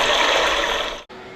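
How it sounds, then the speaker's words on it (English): A steady rush of flushing water, loud and close, that cuts off abruptly near the end before a faint residual hiss continues. "You can make water sounds and go potty."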